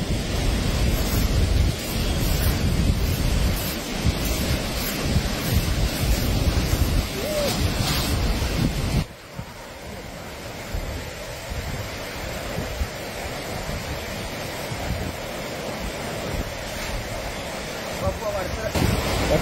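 River flowing past Chooralmala in Wayanad, an area prone to flash floods, makes a steady, loud broadband rush, with wind buffeting the microphone. The level dips noticeably about halfway through, then holds steady.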